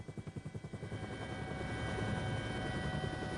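A leased forest-police helicopter beats with rapid rotor thumps that blend into a steady, loud engine roar as it flies overhead.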